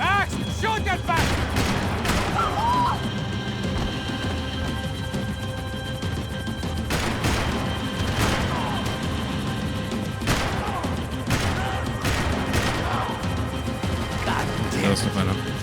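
Gunfire in the shooter game Max Payne 3 rings out in repeated sharp cracks and short bursts over steady action noise, with voices talking amid the shots.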